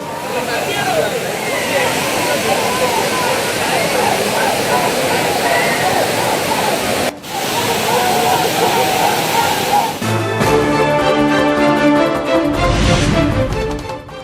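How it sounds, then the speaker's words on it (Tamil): Courtallam waterfalls, swollen after continuous rain, roar with a dense, steady rushing of heavy water, loud and continuous throughout, with a brief dip and a change in texture near the end. "தொடர் மழையால் குற்றால அருவிகளில் ஆர்ப்பரித்து கொட்டும் தண்ணீர்."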